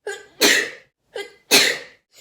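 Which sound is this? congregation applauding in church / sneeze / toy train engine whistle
sneeze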